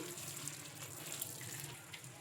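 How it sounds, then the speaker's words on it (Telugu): Water draining off washed puffed rice from a bowl, a faint steady trickling pour lasting a couple of seconds. "ఇలా మొత్తం అనేసుకొని వాటర్ని వంపేసుకుందాం."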